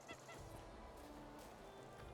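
Geese on a farm in the video game Medieval Dynasty give off a faint, steady run of honking calls, quiet and distant, with no talking over them.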